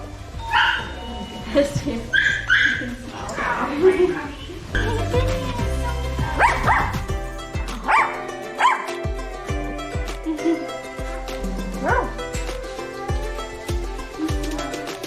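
A small dog barks and whimpers in a Shanghai home, its yips and whines close and repeated among background noise and speech.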